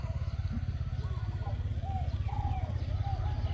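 Mani Daeng, a wild competition dove with a small voice, coos in a steady run of soft, low phrases over a constant low drone.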